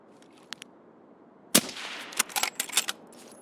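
Gunfire in the video game Escape from Tarkov on the Customs map, a few faint distant shots followed by a loud close volley of sharp cracks in quick irregular bursts.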